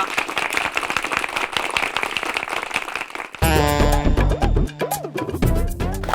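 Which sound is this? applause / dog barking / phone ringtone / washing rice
applause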